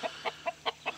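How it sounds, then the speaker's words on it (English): A pair of mixed-breed game chickens on a homestead give five short, evenly spaced clucks in quick succession, fairly close and clear over a quiet background. "This is a pair of my game chickens."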